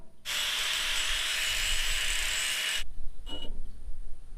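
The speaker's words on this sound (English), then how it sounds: "we'll do the rest of that with a 1/4 inch hard stone" A 1/4 inch hard stone grinding the end of a metal tube into a round profile while an H brace and gate are built, a loud steady whir lasting a few seconds, then stopping, with one brief short burst after.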